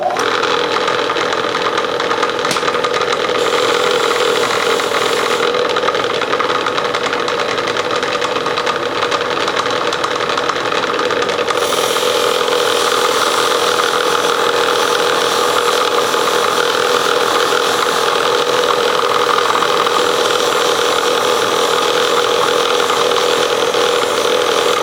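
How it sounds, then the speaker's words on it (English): A buffing wheel with rouge polishes a part from a rare Briggs NR6 engine during restoration, a steady loud whirring drone that runs unbroken throughout, no voices. "you need a buffing wheel, and some rouge, they call this, and should clean it up pretty good"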